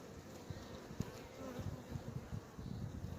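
Honeybees buzz around an opened hive during an inspection on an overcast, windy day, a faint continuous hum with individual bees droning close by.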